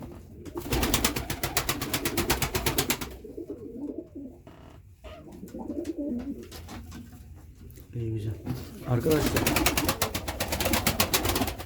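Pigeons coo in a loft, their soft calls sitting under a man's nearby speech and bursts of rustling noise at the start and end.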